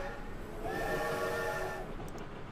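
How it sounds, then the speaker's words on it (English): A train whistle blows once for about a second over a low rolling rumble of rail cars, heard faintly and at a distance. "This train's whistle sounds once more"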